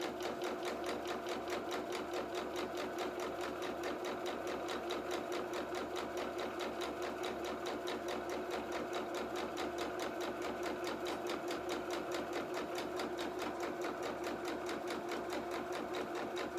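A domestic sewing machine stitches a seam along the length of a tie for cat doll clothes, its steady rapid needle clatter running continuously and close up for the whole stretch with no pauses or talk.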